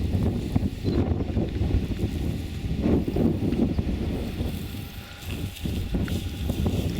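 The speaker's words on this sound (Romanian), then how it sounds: "Și a început să sufle vântul." Wind picks up in a warm mountain valley near Toplița, rushing and buffeting the microphone in uneven gusts with a low rumbling roar that rises and falls over several seconds.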